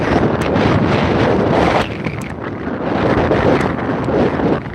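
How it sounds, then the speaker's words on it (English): Strong wind on the ice while ice fishing buffets the microphone in a continuous loud roar, with gusty rumbling and no other clear sounds. "I'm sorry about the wind."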